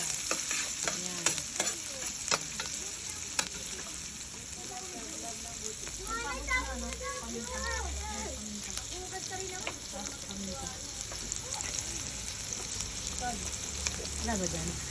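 Onion sautéing in oil in a pan for Filipino ginisang repolyo, a steady sizzle with repeated scraping and stirring of a utensil against the pan, a voice speaking briefly over it.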